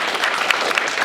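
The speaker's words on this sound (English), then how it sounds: "I want to give them a round of applause." Applause from the audience at a business expo breakfast forum, a brief dense burst of clapping from many hands, fairly close, without talk.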